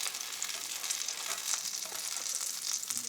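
Bread frying in a pan as part of a fry-up, a steady close hiss of sizzling fat that holds at an even level throughout, with no talking.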